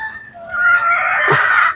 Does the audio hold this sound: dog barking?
no